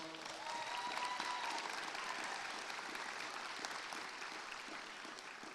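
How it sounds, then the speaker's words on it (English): Audience at a high school graduation ceremony clapping steadily, a sustained full round of applause throughout at moderate loudness. "Can we give her a big round of applause?"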